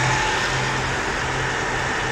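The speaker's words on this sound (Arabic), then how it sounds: "هاي صوت الماتور بعد ما غيرنا" A car engine running after an oil change, idling with a steady, even, close hum that holds the same level throughout, with no voices over it.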